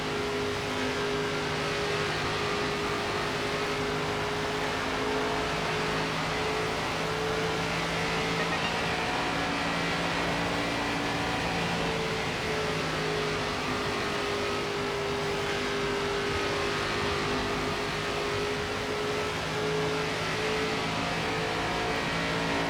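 A NASCAR race car lapping Rockingham in the NASCAR 25 video game, its engine a loud, unbroken droning whine with steady tones that shift slightly in pitch, holding near-constant throughout.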